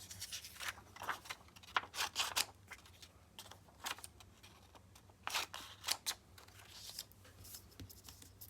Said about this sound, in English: Cut the 9 pictures apart.